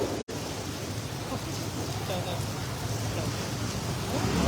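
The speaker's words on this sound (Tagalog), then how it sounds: "Talagang malakas talaga yung ulan." Heavy rain pours down by the flooding Marikina River, a dense steady hiss with a low rumble beneath, close and loud after a brief dropout at the start, while someone talks faintly under it.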